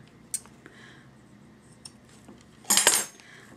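Scissors snip thread close to a knot on a serger-made tassel, giving a single sharp metallic cut near the end, after a few faint clicks and handling noises in a quiet room.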